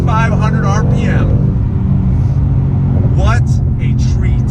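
2019 Ford Mustang GT V8 pulling hard under full throttle toward 7,500 RPM, a loud continuous engine roar and drone inside the cabin, with someone talking over it.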